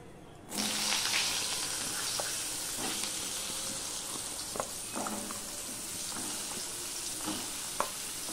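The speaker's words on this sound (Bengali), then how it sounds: "এবার সবার প্রথমে আমি এই পটলগুলো ভেজে নেব" Pointed gourd (potol), salted and sprinkled with turmeric, frying in a pan with a steady close sizzle that starts abruptly, broken by occasional stirring scrapes and clicks.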